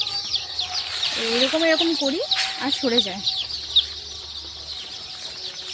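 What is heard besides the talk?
chickens clucking while being shooed away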